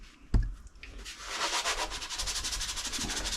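Scrubbing a ceramic sink during a 1930s house understairs bathroom renovation: after a sharp knock, close, steady rhythmic scratchy strokes continue with no talking.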